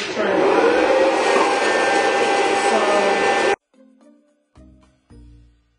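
A hot-air popcorn popper runs loudly and steadily, its fan-driven whir lasting about three and a half seconds before cutting off. A few short, quieter knocks and bumps follow.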